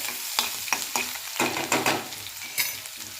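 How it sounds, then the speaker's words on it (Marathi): Crushed garlic fries with popping cumin and mustard seeds in hot oil for tomato saar, a close, crackling sizzle broken by repeated stirring scrapes and small bursts. "जिरे मोहरे छान फुलायला लागले त्याच्यामध्ये आता वाटलेलं लसण टाकायचे"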